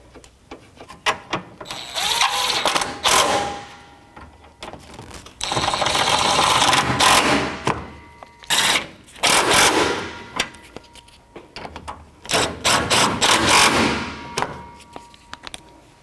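A hand ratchet with a 12mm socket turning fan bolts on a 2006-2012 Toyota RAV4: repeated bursts of quick, rattling clicks, several seconds each, separated by short pauses, close and fairly loud, with no talk.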